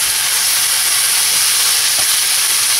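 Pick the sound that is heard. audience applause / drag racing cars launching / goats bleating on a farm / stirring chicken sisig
stirring chicken sisig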